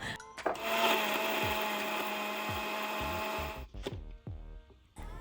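A mixer grinder whirs loudly and steadily for a few seconds grinding raw mango chutney, then cuts off, leaving clattering knocks and rattles of the jar.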